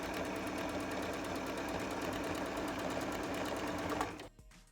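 A sewing machine stitches a skirt hem in a steady, fast run of needle strokes at close range, then stops near the end, with no talking.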